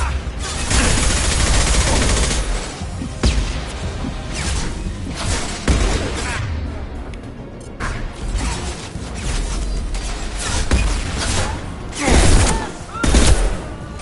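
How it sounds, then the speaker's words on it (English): Heavy gunfire during a Mass Effect 2 firefight: loud, dense volleys of shots and mechanical clatter, with crashes and bursts swelling and easing over the stretch. "Taking heavy fire."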